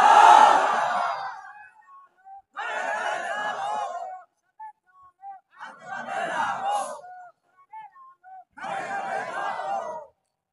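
A crowd at an Islamic religious gathering roars a loud chant in unison, in four or five bursts separated by short gaps, each swell rising strongly and fading out.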